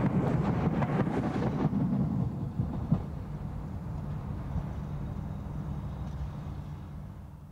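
A pair of British Rail Class 313 electric trains at Hatfield station in snowy conditions. A loud rumbling rush of passing cars fades into a steady low hum, with wind noise on the microphone.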